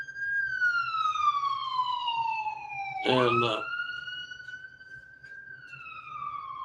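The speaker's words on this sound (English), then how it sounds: "You heard the siren, I'm sure." An ambulance siren passes outdoors, heard from inside a room: a clear wailing tone sweeps down and back up, with a brief loud clatter midway and a voice speaking faintly underneath.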